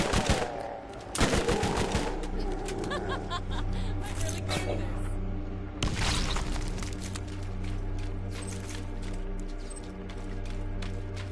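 Bursts of SMG fire in the video game Borderlands, with rapid automatic shots opening the clip and another burst near the middle, set over a steady game soundscape and background music.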